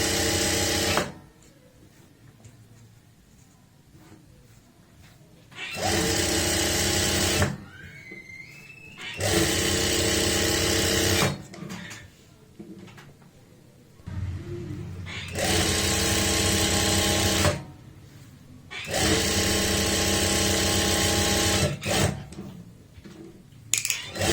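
A sewing machine stitches the lining into a kameez in repeated loud runs of several seconds each, separated by quiet pauses for adjusting the fabric.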